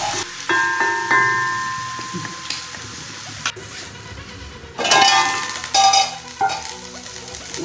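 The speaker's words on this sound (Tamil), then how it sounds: "இடக்கிடக்கு இப்படி கிண்டிக்குங்க, இல்லாட்டா அடி பிடிக்கும்" Beans fry in oil in a pan, giving a steady sizzle, while a spoon scrapes and clinks against the metal in repeated stirring strokes, loud and close.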